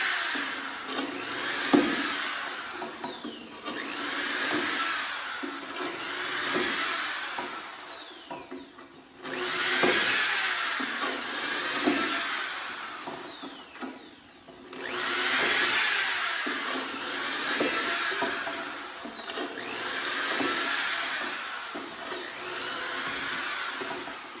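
A power drill bores holes through wood for a wooden vacuum cleaner cart, whining loudly and close in four long repeated bursts with brief pauses between them.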